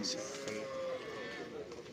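Cattle at a busy livestock market with bulls and buffalo: one drawn-out low moo sounds over a crowded background murmur, with people talking nearby.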